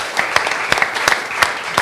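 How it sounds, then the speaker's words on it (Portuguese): A church congregation applauds, a moderately loud burst of many scattered hand claps filling the room. "Você pode dar uma salva de palmas para o Senhor?"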